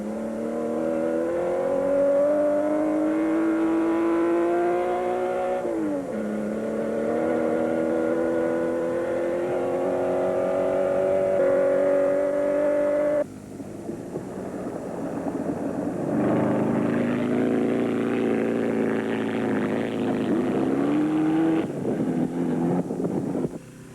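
Off-road race vehicles in the 1973 Mint 400 desert rally near Las Vegas, engines roaring and shifting pitch as they pass, loud and sustained with wind buffeting the microphone.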